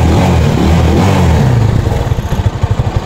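A motorcycle engine revved hard after a carbon cleaner treatment, loud and close, climbing then dropping back to a rough, chugging idle with distinct pulses toward the end.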